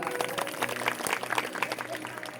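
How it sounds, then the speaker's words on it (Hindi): A seated crowd at a Shrimad Bhagwat Katha religious gathering in Salarpur, Noida claps briefly, a scattered, uneven patter of hands heard at moderate distance with some voices mixed in. "इनके लिए ताली बजाओ एक बार।"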